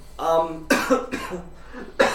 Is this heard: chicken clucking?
no